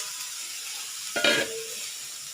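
Khoa (milk solids) sautéed in a pan for a lounglata sweet gives a soft, low sizzle with a brief scraping stir in the middle, fairly faint and close.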